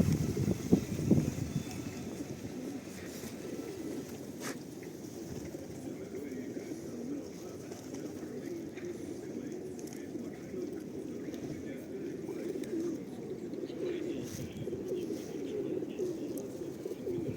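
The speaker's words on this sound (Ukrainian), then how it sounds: "Голуби." Pigeons coo in low, repeated murmurs close by in Truskavets, Ukraine, with voices talking faintly in the background.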